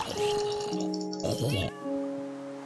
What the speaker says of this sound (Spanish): Buen gato.